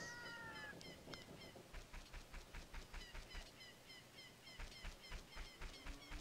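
Chickens cluck in Kakariko Village in Zelda: Ocarina of Time, a rhythmic run of short repeated calls and clucks over the game's background music, steady and moderately quiet.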